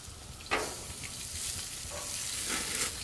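A patty laid beside sausage on a hot grill sends up a loud, close, steady sizzle, with a sharp flare of crackle as it hits and a continuous hiss with light pops after, no talking.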